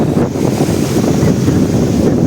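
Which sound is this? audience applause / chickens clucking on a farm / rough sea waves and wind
rough sea waves and wind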